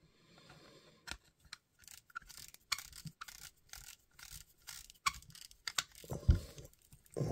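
Plastic mount of a Nitecore NPL25 weapon light being clicked and tightened onto a rail, a series of sharp close ticks and scrapes in an uneven rhythm, with no talking.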